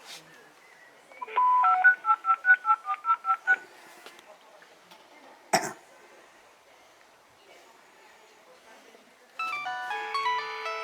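Touch-tone dialing from a landline calling a mobile phone: a quick run of about eight evenly spaced beeps, then a short click, and after a pause the mobile's ringtone starts up loud and clear. No one talks over it.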